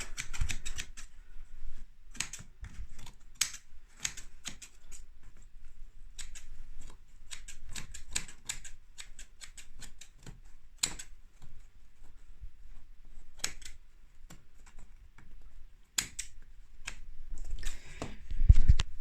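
Scissors snip repeatedly at the fluffy edge of a sisal carpet being trimmed for open stairs, a close series of quick dry cuts in irregular bursts with short pauses, some clusters of rapid snips.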